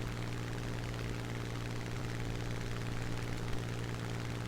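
Engine of a damaged Spitfire in a realistic flight combat game drones steadily and evenly, a constant loud propeller-engine hum with a strong low tone and no change or talking throughout.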